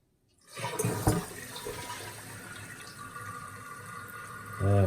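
A toilet flushes during a tank gasket repair, starting with a loud rush of water that settles into a steady wash and then swells again near the end, with no talk.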